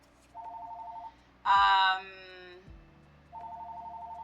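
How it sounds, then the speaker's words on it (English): Telephone ringing in The Sims 2 video game, a soft repeating electronic trill heard in two bursts, with a louder game sound in between and faint voices underneath. "why is the phone ringing?"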